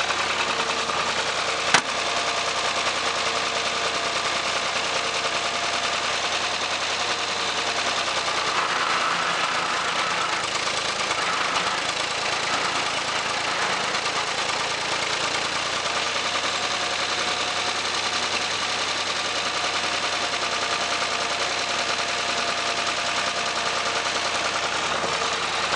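Farm tractor engine running steadily while the machine turns in a field, a loud continuous drone with a single sharp knock early on and no talking.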